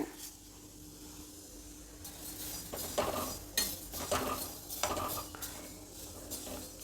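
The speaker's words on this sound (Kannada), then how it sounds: "ಧನಿಯಾ ನೋಡಿ ಕರೆಕ್ಟಾಗಿ ಹುರಿದಿದ್ದಾಯಿತು" Coriander seeds dry roasting in an iron pan for homemade sambar powder, faint rustling and scraping as a spatula stirs them, with several louder metallic scrapes in the second half.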